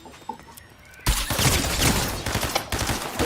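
Gunfire in the Fortnite video game breaks out suddenly after a quiet second and becomes a dense, loud, sustained fusillade of overlapping shots that continues to the end.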